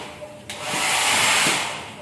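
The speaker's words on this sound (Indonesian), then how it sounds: "di sini ada hair dryer guys ya" A hotel room hair dryer switches on with a sharp click and then blows as a steady, loud broadband whoosh that holds for the rest of the moment.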